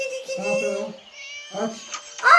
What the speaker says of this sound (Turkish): Hadi kedi miyav